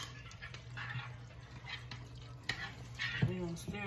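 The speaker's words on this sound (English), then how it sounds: "we're gonna stir that chili throughout the whole thing" Chili with noodles and cheese is stirred in a pot, giving soft, wet squelching and scraping strokes in an irregular rhythm, fairly quiet, with a low hum behind and a voice briefly at the end.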